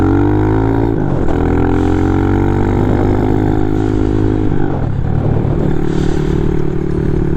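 A small Honda Z50R motorcycle, converted for street-legal highway use, cruising at about 30 mph: a loud, close, steady buzzing engine drone that holds its pitch, with a brief dip and recovery near the middle.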